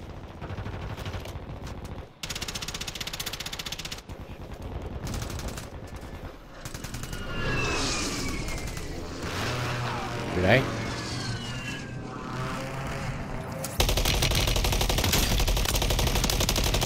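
Heavy automatic gunfire from an MTZ-762 rifle rattles in dense sustained bursts during a Warzone Resurgence match on Fortune's Keep, loud and continuous with game effects layered over it.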